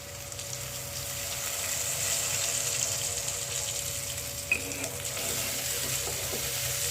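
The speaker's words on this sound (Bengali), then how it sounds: "এবার এর মধ্যে পরিমাণ মতো আমরা ঝোলটা দিয়ে দেব।" Broth poured into a pan of vegetables for a fish curry with aubergine and lentil dumplings, making a steady sizzling, bubbling wash that runs throughout with a brief splash midway.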